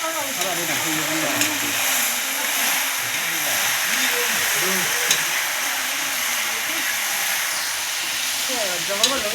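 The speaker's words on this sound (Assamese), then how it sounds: "ফাইনেলি আমাৰ ব্ৰইলাৰটো দি দিয়া হৈছে কেৰাহীত।" Broiler chicken sizzles and hisses in a hot wok, a constant frying crackle with occasional stirring scrapes while a person talks over it.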